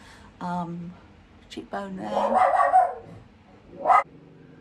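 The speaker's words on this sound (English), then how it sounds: "Sorry about the dog barking." A dog barks a few times in the background, short sharp yaps under someone talking close by while she applies makeup.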